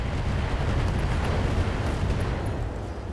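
Missile strikes in the Battletech video game make a dense, continuous roar of explosions, heavy and loud throughout with no pauses.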